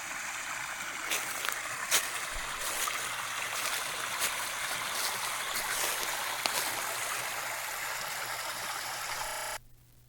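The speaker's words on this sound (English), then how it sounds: "Lots and lots of waterfalls everywhere out here." Running water rushes and splashes steadily, a broad constant roar with scattered sharper splashes, cutting off abruptly near the end.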